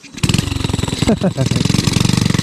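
A small vehicle engine runs with a fast, steady pulsing throb as it is revved. It is loud and close, and a voice speaks briefly over it.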